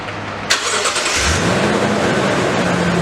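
A 2013 Toyota Tundra with the 5.7L engine starts up after an oil change, a short crank leading into a steady, loud idle that settles in close by.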